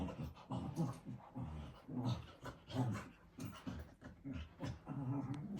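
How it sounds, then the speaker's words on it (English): A pet dog indoors panting in quick breathy bursts with occasional soft whimpers, close and fairly quiet, no speech. "That's currently my dog."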